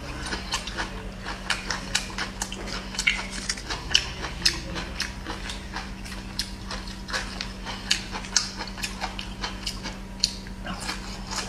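Spicy hand-peeled bamboo shoots eaten close to the microphone, with steady crunchy bites and chewing clicks repeating throughout, over a low constant hum.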